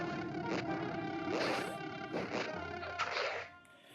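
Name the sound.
golden bee buzzing, from the video game Zelda: A Link Between Worlds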